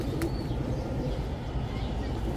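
Pigeons coo low and continuously in a pigeon seller's loft, a muffled, steady murmur with a brief chirp near the start, and people talking over it.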